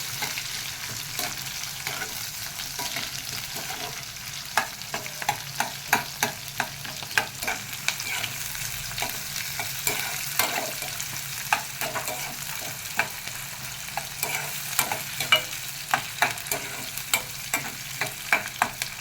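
Green chillies and onions sizzle in a pan for a tempering, with steady frying hiss broken by frequent sharp clicks and scrapes from stirring, close and fairly loud, with no voices.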